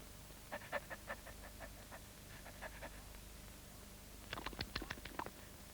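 A cartoon dog pants in quick rhythmic bursts, one run of short breaths followed after a pause by a second, sharper and louder run, with nothing else over it.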